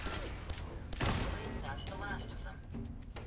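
Rapid gunfire in the video game Fallout 4, dense bursts of shots layered over game noise and a player's voice talking through the fight.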